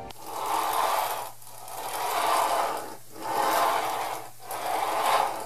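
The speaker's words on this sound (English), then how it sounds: "That's the sound of a bearing not rolling right." Faulty fingerboard wheel bearing rolling, heard up close as a rough, grinding rasp that swells and fades in four even cycles over a faint steady hum.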